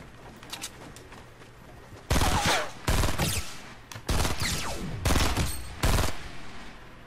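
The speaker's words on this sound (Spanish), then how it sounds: "No es el compa que está disparando aquí muy a gustito." Another player's gunfire rattles in a Fortnite Battle Royale match: faint shots at first, then five loud, close bursts of rapid fire spaced about a second apart, with no talking.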